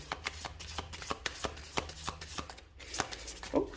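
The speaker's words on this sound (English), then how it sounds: "I'm going to pull some confirmation cards using my tarot deck." A tarot card deck is shuffled by hand, producing quick rhythmic riffling and soft slapping taps in close, quiet bursts, with no voices.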